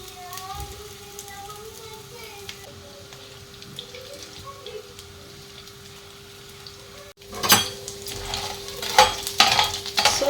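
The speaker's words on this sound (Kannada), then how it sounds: "ಸೊ ಇವಾಗ ಇದನ್ನ ಫ್ರೈ ಮಾಡ್ಕೋತೀನಿ" Food deep frying in a small amount of oil in a home kitchen, a steady soft sizzle for most of the time, then louder crackling and spattering bursts near the end as pieces hit the hot oil.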